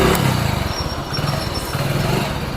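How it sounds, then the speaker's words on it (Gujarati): A motorcycle engine running just after an MK clutch assembly was fitted and oil added, its steady close, loud idle throbbing with slight revving and clatter throughout. "આપણે ઓઇલ નાખી બાઇક સ્ટાર્ટ કરીને બતાવો."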